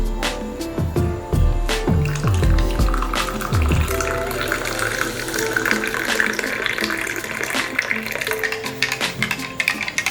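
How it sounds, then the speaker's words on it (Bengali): Hot water pours into coffee powder for black coffee and is stirred, with a few clinks and splashes at first, then a steady watery swirl, fairly close, under some background talk. "একটু কফির গুঁড়োর মধ্যে গরম জল দিয়ে নাড়িয়ে নিলেই রেডি আমার ব্ল্যাক কফি।"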